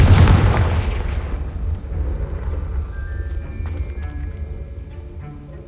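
Confringo fire spell exploding in Hogwarts Legacy, a loud booming blast with a long rumbling decay and faint crackles as it fades.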